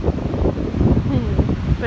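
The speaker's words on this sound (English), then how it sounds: "it's a bit windy" Steady gusting wind on the coast at Arch Cape near Cannon Beach buffets the microphone with a broad, rumbling rush that stays loud throughout.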